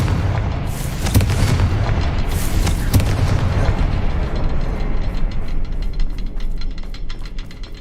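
Confringo fire spell blast in the game Hogwarts Legacy, a loud booming explosion with crackling bursts, then a fading fiery rumble.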